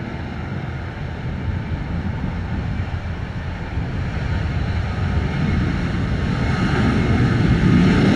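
Delta airliner taking off from runway 07 at Sangster airport, Montego Bay, Jamaica, in an 18-knot wind; a broad, steady engine roar builds gradually in loudness over the whole stretch, with no talk.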